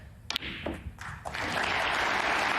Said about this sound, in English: Crowd applauding, frame ball.